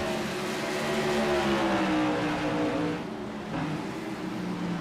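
Modified race cars lapping Five Flags Speedway, a steady loud engine drone with shifting pitch as the field roars past, the tone dipping slightly near the end.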